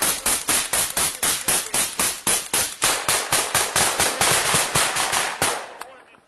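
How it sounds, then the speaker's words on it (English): Rapid automatic gunfire aimed at a Russian dugout in a combat zone, a loud, close burst of about thirty evenly spaced shots over roughly six seconds that stops abruptly. "The shots landed straight at Russian dugout."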